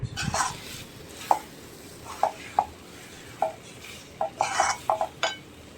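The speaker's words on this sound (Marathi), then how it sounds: "अशी मस्त मॅशरने मऊ करून टाकायची" Cooked dal mashed in a metal pot with a masher: irregular sharp clinks and knocks of metal on metal, close by, spaced out over a faint background hiss.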